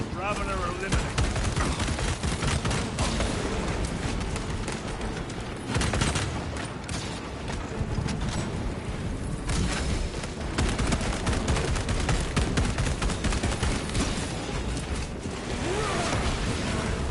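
Enemy gunfire rattles in the sci-fi shooter Space Marine 2, with dense, sustained bursts and booms running almost unbroken, loud and close, and voices talking under the din.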